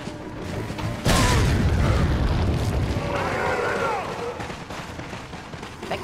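A hand grenade goes off in Resident Evil 4 with a sudden loud boom, followed by a long rumbling roar that slowly fades beneath game noise, while someone talks.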